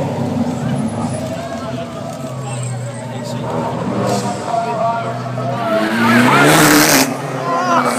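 A racing car engine roars past at speed during the Gumball 3000 in Copenhagen, its pitch rising and falling over steady crowd babble and a commentator's voice.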